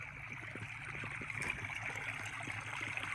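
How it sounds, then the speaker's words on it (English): A cold mountain creek flowing at Cold Creek, a steady rushing and trickling wash of water, fairly close and constant, with no voices. "there's a creek"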